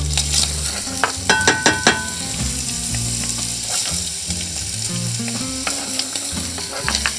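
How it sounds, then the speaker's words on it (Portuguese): Onion and garlic fry loudly in a pan with caramelized bacon, a steady dense sizzle broken by a few sharp clicks of a utensil stirring, close and continuous throughout. "vou juntar a cebola e o alho"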